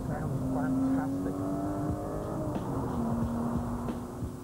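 Ford Mondeo-derived V6 car engine, essentially two 460-horsepower V6s combined, running with a steady, smooth drone and rising pitch lines as it revs, fairly close and loud throughout.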